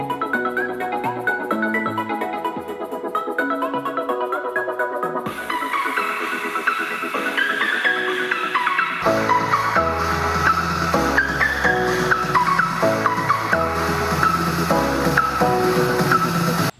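An Anker SoundCore 2 Bluetooth speaker plays music continuously and fairly loudly, a full mix whose tone and bass shift partway through as the track changes, heard alone without talking.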